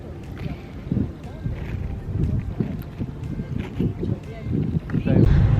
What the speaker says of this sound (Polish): Mimo tego, że zmieniliśmy plażę, to i tak wieje.